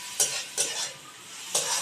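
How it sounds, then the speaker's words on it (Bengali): Goat fat frying with turmeric in a pan, a dense bright sizzle broken by three quick scraping stirs of the spoon, close and loud. "এবার এই চর্বিটাকে ভালোভাবে একটু ভেজে নেব"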